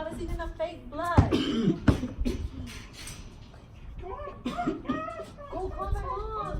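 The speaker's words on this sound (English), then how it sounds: "he's coughing blood." A person coughs in harsh bursts amid excited talk from several people, with throat clearing and some chuckling mixed in, close and moderately loud.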